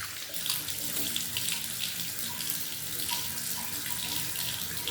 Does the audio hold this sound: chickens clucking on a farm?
no